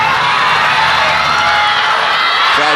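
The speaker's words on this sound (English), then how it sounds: "Crowd trying to pump up Ma Long right now" Loud, dense crowd cheering and shouting at the 2015 China Open table tennis semifinal, urging on Ma Long against Oshima Yuya, a steady roar that carries to the end.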